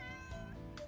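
A cat meows on a street in Hakata's old quarter of Fukuoka, giving one short, close, tonal meow followed by a second brief call.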